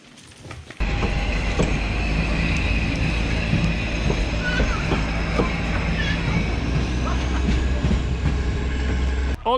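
A train rumbles past close by, a loud continuous roar with clattering wheels and faint metallic squeals over the tracks.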